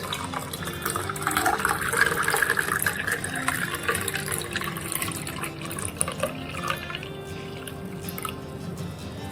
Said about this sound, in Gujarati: તેમાં આપણે ફુદીનાનું શરબત નાખીશું